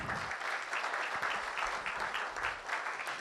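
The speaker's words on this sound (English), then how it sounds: "Let's give him a round of applause." Applause at a city proclamation ceremony, a steady wash of clapping from an indoor audience that carries evenly for several seconds with no speech over it.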